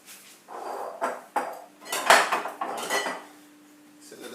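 Utensils clink and scrape against a plate and pan as shrimp teriyaki noodles are served, in a series of short, close metallic knocks with brief pauses between.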